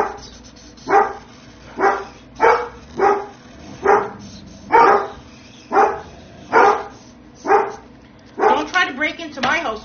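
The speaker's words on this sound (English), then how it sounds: "Scarlett, that's the marker you're barking at." A dog barks steadily, about a dozen loud, evenly spaced barks close by, with a quick cluster of yips at the end.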